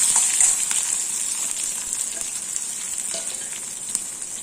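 Chopped onion, green chilli and carrot sizzle in hot oil with roasted chana dal, a steady bright frying hiss with small crackles and occasional stirring, close and continuous with no talking.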